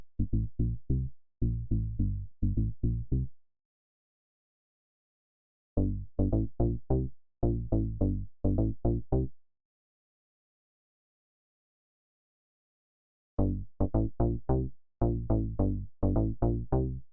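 Padshop 2 synth bass built from short grains of the Low Multi Pulse sample plays in three bursts of quick, punchy repeated notes, separated by silent gaps, with no voices.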